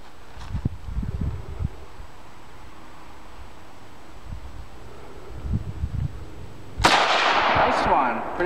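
A Chinese AK-47 rifle fires one sharp, loud shot outdoors that rings out briefly, following a stretch of low wind rumble and muffled movement.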